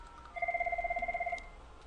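An IP phone communicator placing an outgoing call plays a ringback tone: a single burst of rapid, warbling electronic pulses lasting about a second, clear and steady over faint background hum, with no voices.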